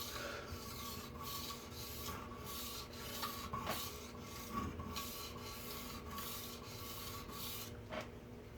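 A knife blade is honed with a grimy honing solution in steady back-and-forth rasping strokes. The rubbing is faint and rhythmic and comes from close by, with no speech.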